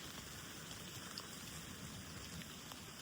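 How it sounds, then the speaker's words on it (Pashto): Steady rain pours down continuously in a village in Swat, a dense even hiss of falling drops with no voices, close and fairly loud throughout. "باران ورېږي تیز شو او د اواز به تاسو اورئ"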